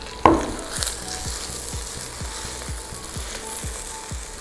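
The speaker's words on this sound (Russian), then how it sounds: "Теперь отправляем к гречке нашу заправку, зажарку, грибы с луком. Сейчас перемешаем и еще потушим минуты 2-3." Buckwheat with fried mushrooms and onions is stirred in a pan, a sharp clatter opening onto quiet sizzling with a regular series of scraping spoon strokes, close and without talk.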